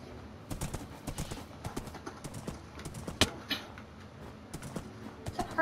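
A horse's hooves clip-clop in Minecraft, a quick uneven run of close, moderately loud thuds across the whole stretch, with a sharp click partway through.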